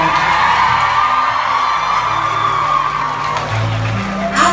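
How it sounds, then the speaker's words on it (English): Festival crowd at a live concert cheering, whooping and shouting loudly and steadily throughout, with a dense roar of voices and a sharper burst of shouts near the end. "So just a big round of applause for it."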